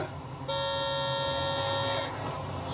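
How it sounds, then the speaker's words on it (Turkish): A car horn blares in the video game Sleeping Dogs, one steady honk held for about a second and a half over a continuous engine and traffic drone, with no talk. "Biz de korna basamıyoruz mu ya?"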